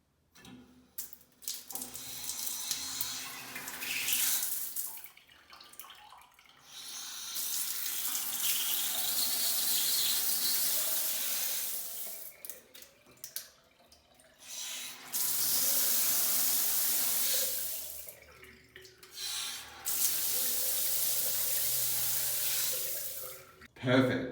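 Water gushing from a newly fitted ceramic disc tap into a sink, turned on and off in several long bursts of splashing, close, with short quiet gaps and handling knocks between.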